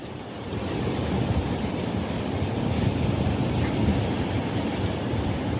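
Heavy ocean surf pounding a rocky shore at a seaside fishing spot, a constant low roar with wind buffeting the microphone, loud and unbroken, no voices.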